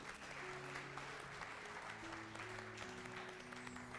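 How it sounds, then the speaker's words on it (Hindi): A studio audience at a televised debate segment claps in sustained, even applause for the contestants, steady and moderately distant throughout. "बहुत सारी तालियां इन लोगों के लिए।"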